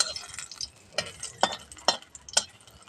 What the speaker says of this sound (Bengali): তেলের মধ্যে 2টো শুকনো লঙ্কা দিয়ে দেবো। একটু নাড়াচাড়া দিয়ে নেবো।